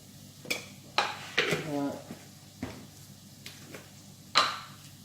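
Cinnamon and cumin are stirred into softened peppers and onion in a pan, giving a few scattered clinks and scrapes of a utensil against the metal, close and fairly quiet.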